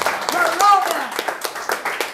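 A church congregation claps and cheers for Jesus, with a preacher's voice carrying over rapid, steady clapping throughout the short burst.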